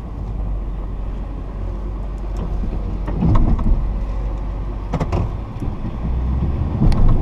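A truck with a snowplow pushes snow off a driveway to clear the opening, giving a steady low engine rumble with scraping bursts around the middle and end, moderately loud with no talking.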